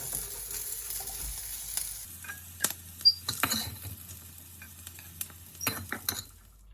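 Prandai sizzles in sesame oil in a pan for chutney, a soft steady crackle broken by stirring scrapes and a few light metallic clinks.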